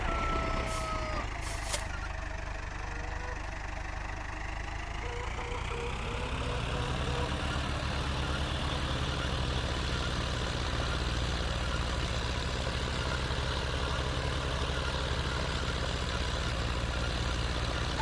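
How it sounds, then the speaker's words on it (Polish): A tractor in Farming Simulator 2013 hitching a trailer and then driving off, a steady loud engine drone that shifts pitch as it gets moving, with a couple of short high beeps early on and no voices. "podczepiamy przyczepę i jedziemy kosić kukurydzę"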